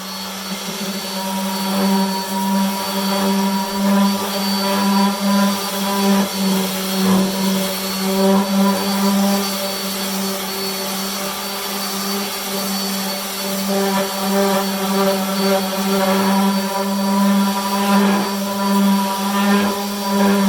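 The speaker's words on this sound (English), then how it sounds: "So I'm going to get sanding." An electric sander drones loudly and continuously on a wooden bench, a steady buzzing hum with no pauses and no talking.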